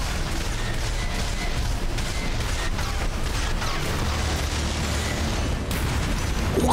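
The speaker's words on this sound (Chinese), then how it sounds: "咩事做咩爆炸啊" Explosions roar through a mech battle in the video game Armored Core VI, forming a dense, loud wash of blasts and mechanical noise with sharp bursts scattered throughout.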